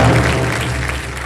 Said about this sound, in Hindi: तालियों के साथ आपका बहुत बहुत स्वागत।